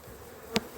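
A quiet, steady drone of honey bees around an opened autumn hive, with one short, sharp click partway through.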